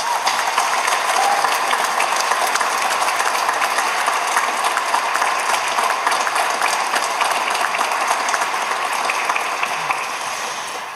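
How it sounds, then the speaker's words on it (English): A committee is warmly applauded at a community awareness week launch in Cork: dense, steady clapping from a sizeable indoor audience that holds for the whole stretch without talk. "would you give everyone on that committee a warm round of applause?"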